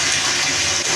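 Near-boiling water is poured from a pot into a container for dyeing clothes, a loud close gushing splash that runs continuously for about a second.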